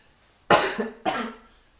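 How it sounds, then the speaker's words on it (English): A person coughs twice into their elbow during a livestream, two sharp, close bursts about half a second apart, each trailing off briefly, with no talk. "I'm going to cough again."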